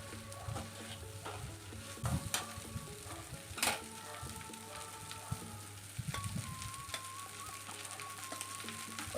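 Prawn fried rice with cooked basmati rice being stir-fried in a pan gives a faint, steady sizzle, broken by a few sharp scrapes and clanks of the utensil stirring and mixing the rice, with no talking.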